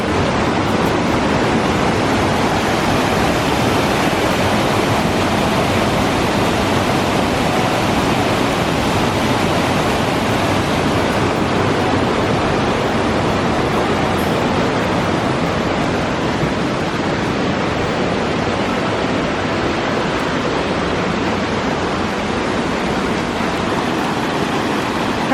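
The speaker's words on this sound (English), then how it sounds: "We found another waterfall." A waterfall in Stowe, Vermont roars in a dense, unbroken rush that stays loud and constant for the whole stretch, with some wind buffeting the microphone and no voices.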